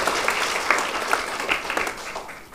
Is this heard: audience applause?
yes